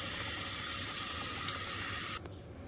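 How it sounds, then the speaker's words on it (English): Tap water runs steadily through a filter into a half-gallon container for a hydroponic indoor garden, a close, even hiss that cuts off abruptly near the end and leaves quiet room tone. "we're just filling this up with regular water, and you see I have a filter on here."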